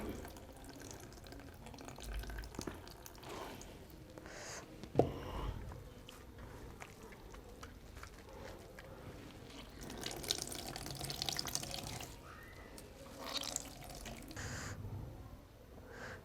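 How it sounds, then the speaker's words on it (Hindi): Water squeezed by hand out of grated radish gives faint, close wet trickling and dripping, quiet and intermittent, with no talking. "कद्दूकश करने के बाद इसका पानी अच्छी तरह दबा के निचोड़ लें।"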